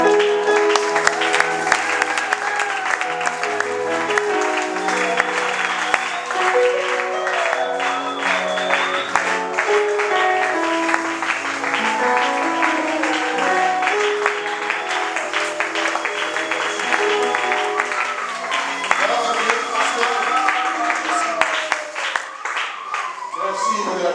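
A church congregation clapping and acclaiming during a sermon gathering, sustained crowd applause mixed with singing voices and tonal music throughout, full and close, tapering slightly near the end.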